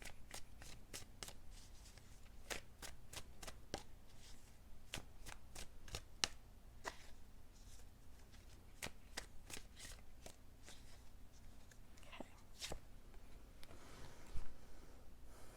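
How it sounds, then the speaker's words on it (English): Tarot cards are shuffled and pulled for a pick-a-card reading: a close, quiet run of crisp snaps and riffling flicks at an uneven pace, with no talking. "So I'm going to pull all the cards"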